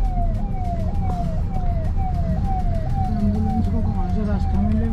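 An ambulance siren wails in repeated rising sweeps, loud and continuous over rumbling traffic in Gurgaon, with a second siren tone joining partway through.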